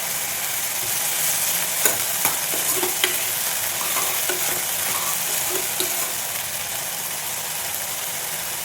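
Grated coconut and curry leaves fry in hot coconut oil with a steady, close sizzle, broken by a few sharp clinks and scrapes of a stirring spoon.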